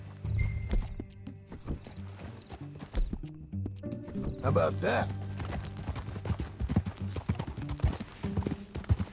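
A horse's hooves clip-clop in a steady walking rhythm during a ride in Red Dead Redemption 2, close and clear, with a brief whinny and characters talking over the hoofbeats.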